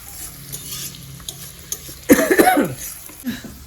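Meat frying in a pan while being stirred, a quiet sizzle broken by a burst of scraping and clattering stirs, with a brief vocal sound midway.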